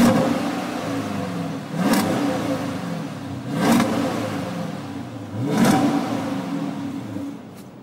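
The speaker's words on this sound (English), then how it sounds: "Pretty good sounding stock exhaust" A 2013 Dodge Charger R/T engine revs through its stock exhaust, a deep idle rumble broken by three sharp throttle blips at even intervals, close and loud.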